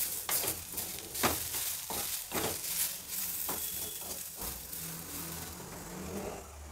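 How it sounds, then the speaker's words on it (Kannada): Grated coconut is stirred in a hot pan with the stove switched off, making soft, irregular scraping and rustling strokes with a faint residual sizzle, close by and quiet. "ಸ್ಟವ್ ಆಫ್ ಮಾಡಿಬಿಟ್ಟಿದ್ದೀನಿ, ಸುಮ್ಮನೆ ಒಂಚೂರು ಮಿಕ್ಸ್ ಮಾಡ್ತಾಯಿದ್ದೀನಿ ಅಷ್ಟೇ"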